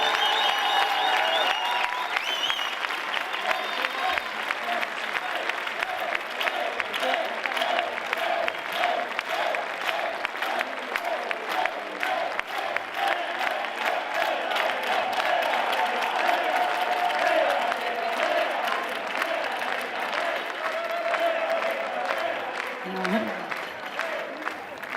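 A crowd applauds a murga group at the Pontevedra carnival murga contest final, with sustained dense clapping and some cheering over about twenty-five seconds and a tonal music or voice layer underneath.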